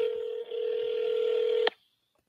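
A phone keypad sounds one long, loud touch-tone held for over a second, with a brief dip partway through, then cuts off sharply into near silence.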